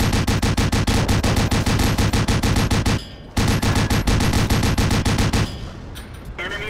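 Rapid machine-gun bursts from a Pz. 1 Ausf. C light tank in World of Tanks, loud sustained rattling fire with a brief pause near the middle, then the volley cuts off into a quieter tail.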